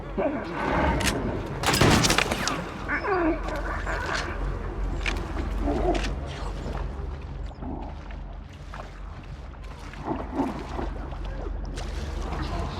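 Scattered gunshots crack and boom at irregular intervals amid background noise in the video game Little Nightmares 2, with a dense burst of fire early on.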